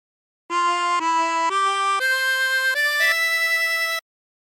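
Tremolo harmonica with 24 holes plays a Yellow Rose of Texas phrase, a steady run of about seven sustained, wavering reedy notes stepping upward, loud and close, alone with no talk.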